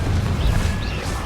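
Confringo fire spell blast cast in the Hogwarts Legacy video game, a dense booming burst with crackling impact that fills the short moment loudly, amid rapid spell combat.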